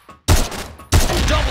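Gunfire from the GP rifle, an ASh-12.7, in the online shooter CrossFire: two loud, heavy shots about two-thirds of a second apart, each followed by a ringing tail.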